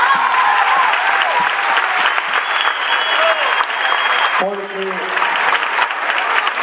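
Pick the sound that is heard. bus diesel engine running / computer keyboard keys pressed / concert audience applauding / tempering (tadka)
concert audience applauding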